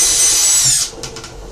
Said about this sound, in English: We're gonna take a small drill bit, big enough to get a zip tie through.